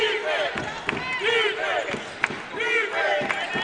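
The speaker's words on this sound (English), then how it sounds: "You hear the ICC faithful behind us trying to get the crowd fired up here with a chance of defense." Home fans of ICC cheer and roar steadily in a gym during a men's college basketball game against Gadsden State, with sharp ball bounces and a commentator's voice over the noise.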